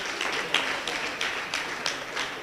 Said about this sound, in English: Dear participants, let's clap for the young innovators.